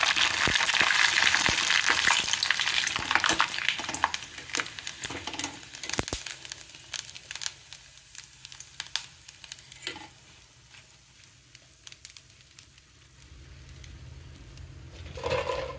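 Vadiyalu, sun-dried lentil fritters, frying in hot oil, a steady bubbling sizzle that is loud at first and fades gradually to a quieter crackle, with no talking.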